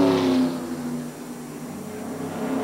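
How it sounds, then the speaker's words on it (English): A stock race car roars past at speed on the track during the 1993 Daytona 500, a loud engine drone that peaks at the start and then holds steady under crowd and broadcast ambience. "Boy, I hate to see his car's coming back at pretty good speed."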